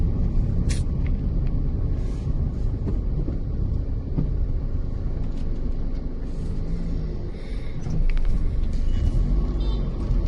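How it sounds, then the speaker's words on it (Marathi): Heavy midday road traffic rumbles continuously near a Ganesh festival route, with engines droning, a brief hiss like an air brake and a swell of louder passing vehicles toward the end. "किती ट्रॅफिक आहे."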